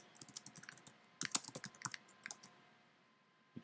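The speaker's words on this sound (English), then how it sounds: "I'm going to use my computer keyboard." Fingers type on a computer keyboard in quick, uneven bursts of crisp key clicks, close and fairly quiet, with a busy flurry in the middle before the tapping thins out and stops.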